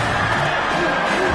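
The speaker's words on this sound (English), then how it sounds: "Decibels rising as the crowd gets behind this defense on 3rd down." Football stadium crowd roars on a third-down defensive stand, a dense, sustained wall of cheering and whoops with no break.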